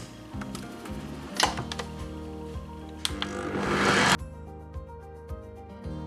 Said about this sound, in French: Et je viens battre cette préparation jusqu'à ce que mon mélange blanchit et double de volume.